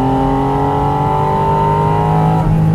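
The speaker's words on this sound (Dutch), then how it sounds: "als je vol gas geeft, dan is het net alsof je trommelvliezen uitgezogen worden door het vacuüm van die motor" A Porsche 718 Spyder RS engine at full throttle climbs in a strong, rising rev with a clear tonal whine, loud and close, before easing off near the end.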